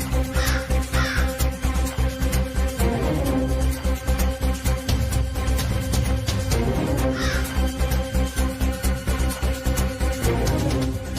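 Crows caw repeatedly and loudly close by, their harsh calls coming in bursts over a constant outdoor din, around a food offering laid out at a family ritual.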